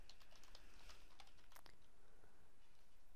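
Quick, light keystrokes on a computer keyboard while email addresses are entered, a brief irregular burst of clicks that thins out and stops, close and fairly quiet with no voices.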